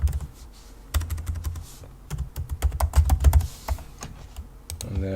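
Fast, irregular keystrokes on a computer keyboard as a username is typed into a Windows 11 remote desktop login for an Ubuntu Linux machine, close and clear, with short pauses between bursts.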